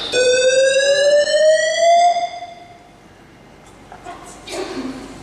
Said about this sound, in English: This is part 2 of our biannual fire and safety alarm test.